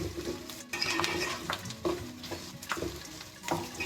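A prawn and paneer stir fry is stirred in a pan, with several scraping, clattering strokes of the utensil over a gentle sizzle, close and without speech.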